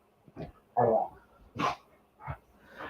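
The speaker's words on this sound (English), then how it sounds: "You can hear my roommate's dog in the background," A dog barks in the background indoors, several separate barks and yips spaced about half a second apart, moderately loud and alone without talk.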